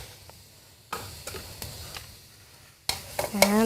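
Ginger and garlic sauté in a pan for a yellow curry: soft scattered taps and scrapes at first, then a louder, close sizzle that builds near the end, with no talking.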